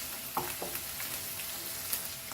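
Vegetables for veg fried rice frying over a high flame, a steady soft sizzle with a few brief clinks or stirring knocks scattered through it and no voices.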